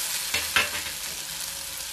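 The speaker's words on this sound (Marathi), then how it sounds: "आता तेल छान तापलंय, त्यात टाकूयात आपण जिरे," Cumin seeds, soaked sago and chili hitting hot oil give a steady, close sizzle with two brief louder spits early on. No one speaks while it fries.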